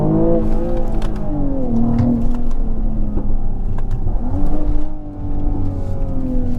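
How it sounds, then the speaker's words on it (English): A car engine revs hard with the throttle held wide open, its pitch climbing and falling in loud sustained sweeps. Brief dips mark the changes, and the drone stays close and continuous with no talk over it. "Now if I whack open the throttle, it will not downshift, it will not upshift, it will not downshift."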